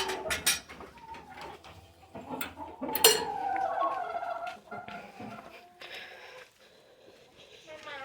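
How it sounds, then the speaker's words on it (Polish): Hens eating feed make clucking and gobbling-like calls mixed with sharp bursts and scratchy noises, near and fairly loud at first and quieter later, with people talking alongside. "Kurki już jedzą, zadowolone."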